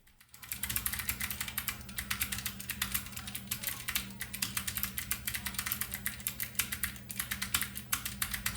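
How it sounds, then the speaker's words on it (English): Steady typing on a DREVO Joyeuse low-profile mechanical Bluetooth keyboard with blue switches, a dense run of bright, crisp clicks at a fast, even pace, close and continuous beneath a low background hum. "here's a sample so you can hear how the switches sound while typing"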